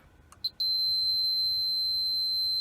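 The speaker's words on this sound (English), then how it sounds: "if it's bad, we'll get a long beep" A few short chirps, then a steady, continuous high-pitched multimeter continuity beep that holds without a break, signalling a bad result.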